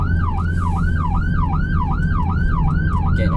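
Ambulance siren wailing in a steady rising-and-falling cycle, loud and close over a constant low engine and road rumble, during an emergency blue-light training drive on a dual carriageway.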